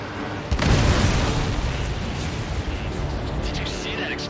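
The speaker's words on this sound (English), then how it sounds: "Did you see that explosion?" A supply ship explodes in Ace Combat 7 with a sudden loud boom, followed by a rumbling, crackling roar that fades slowly under constant jet and wind noise.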